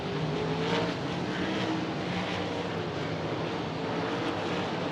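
Kubota High Limit sprint race cars roaring down the front straightaway at 34 Raceway, a dense, continuous engine drone at high volume with overlapping cars blending into one sustained roar.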